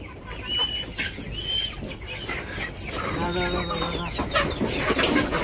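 Village chickens cluck and call close by at dusk while waiting for feed, with several overlapping clucks and a person talking alongside.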